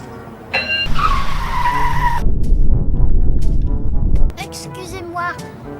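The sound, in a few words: car stopped at a red light in an animated film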